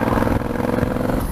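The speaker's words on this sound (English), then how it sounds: "This exhaust sounds lovely." Exhaust of a Honda Africa Twin Adventure Sports motorcycle, a steady, close engine rumble with a faint rattly clatter at idle. It holds even and unbroken throughout.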